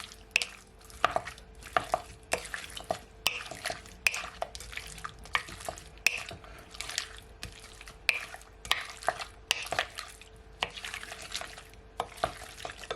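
Salt and pepper shrimp being stirred in a pan, with repeated sharp scrapes and clicks of the utensil against the pan over a soft steady sizzle, close and fairly quiet, with no talk.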